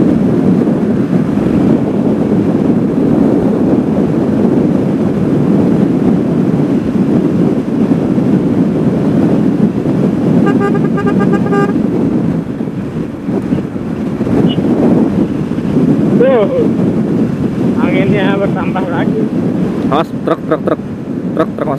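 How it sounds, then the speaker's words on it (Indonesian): Strong sea wind buffets a motorcycle on a coastal Pantura highway touring ride, a loud continuous roar of wind against the microphone throughout, with brief talk and faint engine and traffic tones rising through it. "Anginnya berasa gila."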